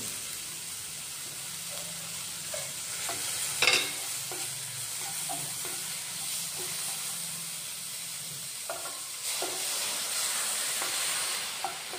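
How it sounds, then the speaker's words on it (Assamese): Broccoli stems with a little salt, cashews and tomato stir-fry in a pan, giving a soft steady sizzle and hiss broken by light scraping and clinks from stirring. "এইবোৰ এতিয়া অলপ সময় ভাজি"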